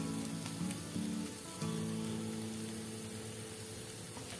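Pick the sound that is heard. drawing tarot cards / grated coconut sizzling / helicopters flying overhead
grated coconut sizzling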